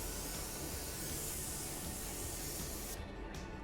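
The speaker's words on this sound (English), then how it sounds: "I am spraying at a bit of a low pressure, and I'm not fanning too wildly to try to not get overspray everywhere" An automotive spray gun at low pressure lays sealer onto a car panel, giving a steady, close, unbroken hiss that cuts off briefly near the end.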